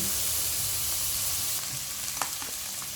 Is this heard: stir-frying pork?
yes